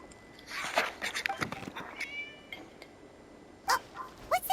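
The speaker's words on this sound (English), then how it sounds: "It was just a cat." A cat meowing in a video game: several short, thin mews and cries come in scattered bursts, with louder ones near the end, over a quiet background.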